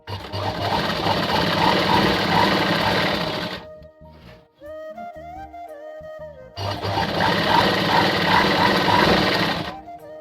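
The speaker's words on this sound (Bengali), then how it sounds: "আমি কিন্তু পুরো নুঙ্গিটা ছোট বড় করে এখন সেলাই করছি" Sewing machine stitching a cotton lungi, running in two long steady whirring bursts at close range with a quieter pause between them where small handling noises and faint tones are heard.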